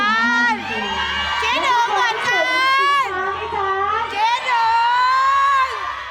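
Fans of Engfa cheer and shout at an event, a crowd of high, excited voices rising in repeated waves of whoops and screams that stay loud and close throughout.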